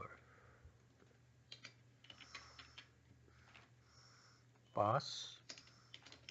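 Keystrokes on a computer keyboard as a password is typed, light scattered clicks at close range over a steady low hum, with one louder burst of sound near the end.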